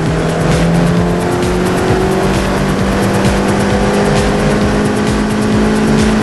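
A Lotus Elise S engine, heard from inside the car on a track, drones loudly and continuously while accelerating, its pitch climbing gradually.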